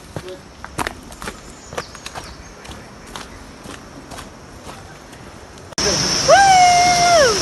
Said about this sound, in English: I can hear the sound of the water.